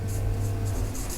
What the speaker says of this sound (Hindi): मैं इनपुट लिखता हूँ